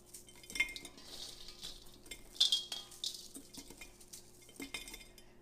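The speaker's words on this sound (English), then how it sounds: "I take the chunks and break them a little bit and put them into the jar" Gluten-free granola chunks are broken by hand and dropped into glass jars, making soft clinks, taps and crumbly rustles at close range in a quiet kitchen.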